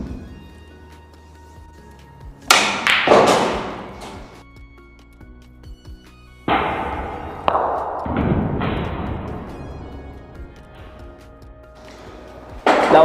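Pool cue striking a ball during a potting drill, sharp cracks of ball contact followed by ringing, rolling clatter and a thud into the pocket, repeated in a few separate shots in a quiet room.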